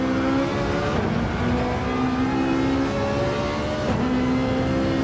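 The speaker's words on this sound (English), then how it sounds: "I love the engine, the tires, just the pure noise" Race car engines and tires in the Gran Turismo 7 racing game: a loud, continuous engine roar with shifting revs and a whirring, tire-heavy drone that swells slightly near the end, with no talking.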